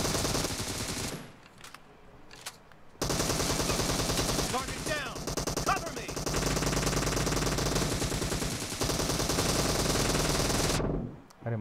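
Rapid automatic gunfire from an upgraded gun in PUBG Mobile, loud sustained bursts with brief pauses, a short quieter gap early on, and a voice talking over the shooting.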